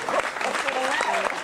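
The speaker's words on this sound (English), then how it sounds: "let's have a nice round of applause for the great Tom Scott, ladies and gentlemen" Brief applause from a jazz festival audience for saxophonist Tom Scott, a steady wash of clapping with a voice speaking over it.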